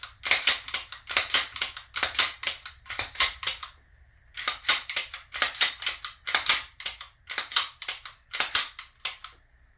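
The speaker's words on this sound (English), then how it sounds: "Pull your trigger." A Canik TP9DA pistol being dry-fired and cocked gives rapid series of sharp, close mechanical clicks and snaps in repeated clusters, with a short pause midway.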